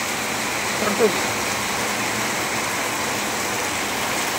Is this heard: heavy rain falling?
yes